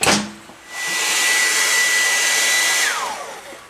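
Heat gun warming Yamaha Commando Special carburetor parts, blowing with a steady loud whoosh for about two seconds before winding down with a falling whine.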